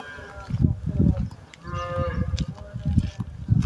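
Cows mooing at a farm pen near a water trough, several deep overlapping moos in quick succession, close and fairly loud, with no one talking.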